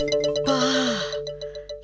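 A doorbell rings indoors in a home with one drawn-out chiming tone in the middle, set among short repeated bell-like electronic tones before and after.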